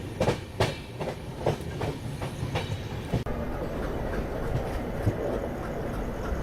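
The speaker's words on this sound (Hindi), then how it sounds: "रात का शांत माहौल और ये एल्को लोकोमोटिव का साउंड।" An ALCO diesel locomotive shunts at Bhopal Junction at night, its wheels giving rhythmic clickety-clack beats that fade into a steady rumble, heard alone in a quiet setting.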